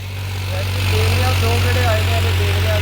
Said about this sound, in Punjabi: ਕਿਵੇਂ ਚੱਲ ਰਿਹਾ ਇਸ ਟਰੈਕਟਰ